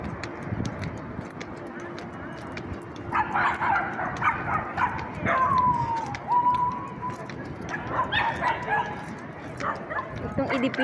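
A dog on a street in the Philippines yips and barks in short, irregular bursts with some whimpering, fairly close, over outdoor background noise, while someone talks nearby.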